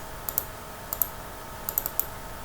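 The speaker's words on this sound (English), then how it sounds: "So let's actually open that up again by double left clicking." A computer mouse gives three crisp double-clicks, each a close pair of sharp taps, spaced evenly over a quiet room hum.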